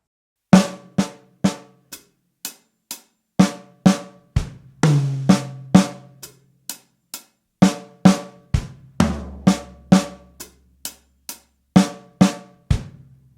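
A repeated three-note drum lick, a snare crack followed by two tom hits, played several times with a few deeper tom and floor tom notes ringing out.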